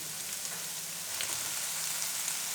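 Carrot, capsicum and cabbage fry in a pan with a steady, dense sizzle and crackle that stays even and close throughout, with no voices.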